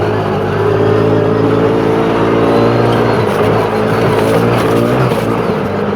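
A CFMOTO ZForce 500 side-by-side driven hard on trails at full throttle, its mid-pitched engine roaring loud and close with rising, wavering revs held steadily throughout.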